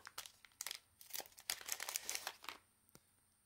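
Crinkly foil wrapper of a trading card pack being torn open, a quiet burst of crackling and ripping lasting a few seconds, close and soft, ending in a small tap.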